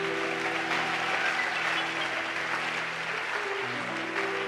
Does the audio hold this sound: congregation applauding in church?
yes